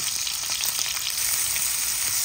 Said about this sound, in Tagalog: At yan na po ang ating sibuyas po. Together with ating bawang, atin na pong ginigisa.